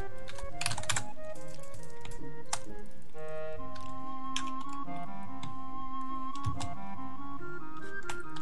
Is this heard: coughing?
no